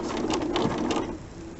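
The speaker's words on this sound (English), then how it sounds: "what I do is I sew right up to my pin" Home sewing machine stitching fabric right up to a pin during a dress sew-along, a steady close whirring hum that fades slightly near the end.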